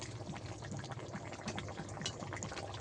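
Bhola fish curry with potatoes boils in a pan, giving a continuous close bubbling and frothing hiss at a soft, steady level.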